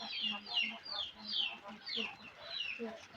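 Quails crowd and climb over one another at feed in a farm pen, giving a busy stream of high chirps and soft clucking calls that continue throughout at close range.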